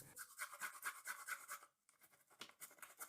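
Ginger and garlic rubbed across a grater for a pork and cabbage gyoza filling, giving quick close rasping strokes in a steady rhythm that stop briefly and then start again.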